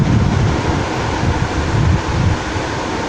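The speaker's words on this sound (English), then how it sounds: "It's windy." Loud wind buffets the microphone throughout, a rumbling, gusty roar that swells and dips without letup.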